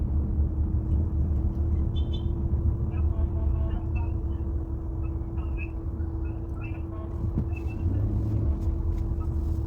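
Road traffic on the way to Riyadh airport rumbles steadily from inside a moving car, a low engine and tyre drone with faint chirps and whines over it.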